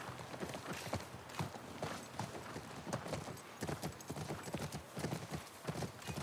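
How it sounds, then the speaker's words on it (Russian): Horse hooves clip-clop in a steady walking rhythm in the video game The Last of Us Part 1, quiet and close, with evenly spaced hoof strikes continuing throughout. "Это наша лошадь."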